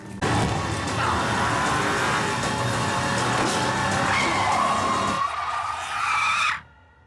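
A car in a Tenet film scene brakes hard and skids, a loud sustained tire screech layered with engine roar for several seconds, the squeal rising in pitch before cutting off abruptly.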